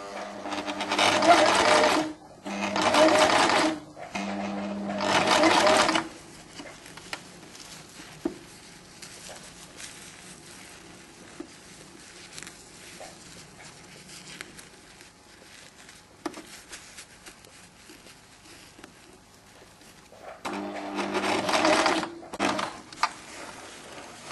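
Sewing machine stitching a shirt of silk satin and tulle in bursts, with several loud runs of the motor at the start and again near the end, separated by quieter handling noise and soft talk.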